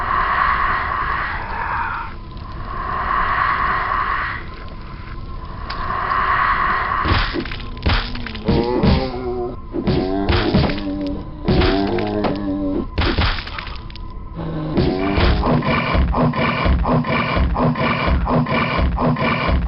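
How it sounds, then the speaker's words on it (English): Dark, creepy monster sound effects from the video game Quake: harsh growls, roars and crunching bursts, some sustained and some in short choppy clusters, loud and dense with no talking. "The sound effects used for the monsters are very dark,"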